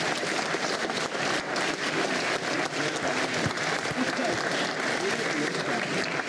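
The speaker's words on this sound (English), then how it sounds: "Could we please give them one last round of applause?" Audience at a university debate clapping in steady, dense applause that fills the room, with faint voices underneath.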